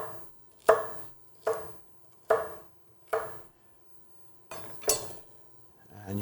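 Knife chopping through pre-sliced carrot sticks on a cutting board, six firm, evenly spaced thuds about a second apart, close and clear with no talking.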